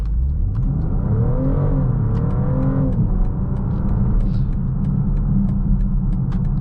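A 2024 BMW X5 50e plug-in hybrid accelerates hard in sport mode, its engine rumbling loud and steady from inside the cabin with rising whining tones as the revs climb, no voices over it.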